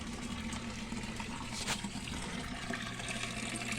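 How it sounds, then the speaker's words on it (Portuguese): Water flows through the thick, bent pipe of a homemade aquarium built from an old refrigerator, a steady close-up rush and trickle with a low pump-like hum beneath, continuous and unchanging throughout, with no voices. "a água tá circulando de boa nessa enverga do cano aí"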